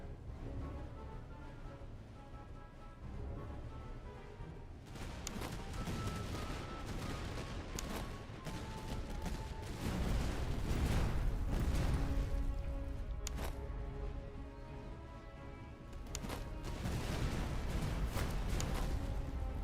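Musket volley fire in the Master of Command video game, set in a British Empire battle, sounds as repeated sharp cracks over a constant dense roar of battle noise, fairly loud and continuous throughout.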